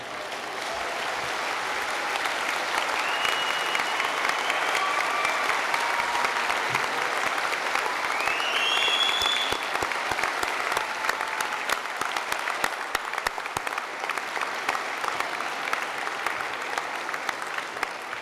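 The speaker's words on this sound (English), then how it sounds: "give them a huge round of applause" A large graduation ceremony audience applauds steadily and loudly for well over fifteen seconds, a dense sustained wash of many hands with faint crowd murmur underneath.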